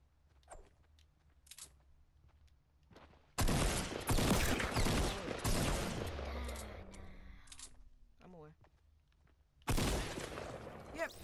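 Loud shotgun blasts from Fortnite burst out in two separate bursts, the first followed by a chaotic rattle of gunfire and debris, the second sharp and short, with quieter footsteps and muffled voices between.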